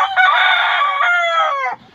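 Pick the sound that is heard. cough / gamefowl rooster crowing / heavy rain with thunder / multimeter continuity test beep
gamefowl rooster crowing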